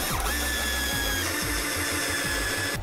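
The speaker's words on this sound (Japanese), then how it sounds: "スリムビスでひたすら打ち込んでいきます。" A power drill drives slim screws into a wooden bed frame being built inside a Nissan Caravan, the motor revving in several short bursts and whirring loudly up close.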